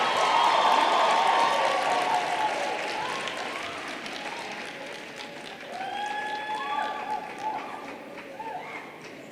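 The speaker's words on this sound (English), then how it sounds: "Can we give them another round of applause?" Sustained applause from a crowd at a campus inauguration ceremony, loud at first and gradually thinning, with a few whistles and cheers rising through the clapping.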